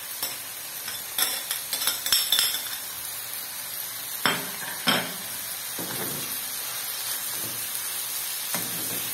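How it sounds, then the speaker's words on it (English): Green pepper and garlic frying with turkey liver in a pan: a steady soft sizzle with stirring scrapes and a few sharp clinks of a utensil against cookware, no voices. "Now I add the green pepper and the garlic."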